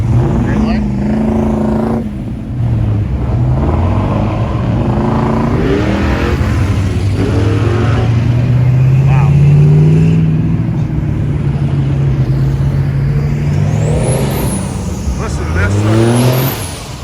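Muscle cars and trucks accelerate away one after another at a car-show rollout, deep engines revving and rising in pitch under continuous crowd chatter and commentary, loud and close throughout.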